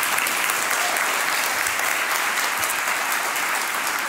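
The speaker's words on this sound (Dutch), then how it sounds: "Geef haar een warm applaus." Audience applause welcomes a speaker at a talk on abortion and self-determination, dense, even clapping from many hands filling the whole stretch without talk.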